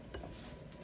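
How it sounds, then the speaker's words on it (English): A spoon stirs cherry cobbler filling with sugar in a bowl, giving brief, faint scraping and soft clinks that end in a sharper knock against the bowl. "Keep stirring it."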